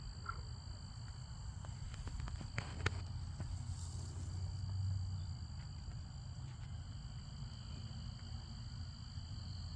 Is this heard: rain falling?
no